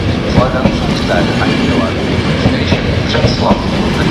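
A ZSSK class 350 locomotive hauls an arriving Intercity train into Břeclav station, wheels clattering rhythmically over rail joints close by, loud and steady, with a voice speaking over the rolling noise.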